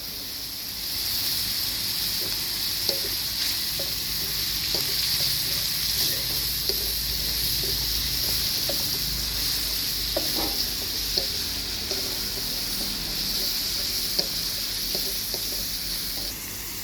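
Curry powder frying in a pan with oil sizzles in a steady, close hiss throughout, with scattered small pops and light stirring scrapes and no talking.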